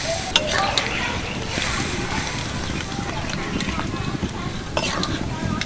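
Water goes into a pan of chickpeas frying in spices, setting off bursts of hissing sizzle with scattered crackles and spoon scrapes, close and fairly loud.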